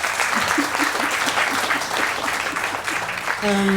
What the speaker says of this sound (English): We are applauding again, isn't it?